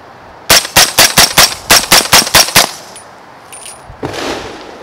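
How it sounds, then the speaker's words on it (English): Eleven rapid semi-auto shots from a rifle in 300 Blackout firing 150 grain subsonic rounds through a suppressor crack in quick, evenly spaced succession. A faint metallic tinkle and a soft rustle follow. "All right, 300 Blackout, 150 grain subsonic,"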